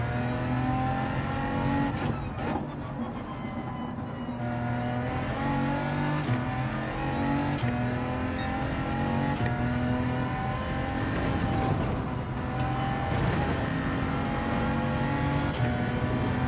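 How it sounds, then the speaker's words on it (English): Race car engine in a racing video game revving hard under throttle, a loud continuous whine climbing and dropping through gear changes with occasional tire squeal, no talk. "Laid on the throttle."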